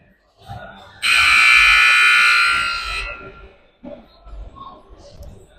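Loud, harsh hockey arena horn blares for about two seconds at a youth hockey game, then cuts off, with faint background chatter before and after.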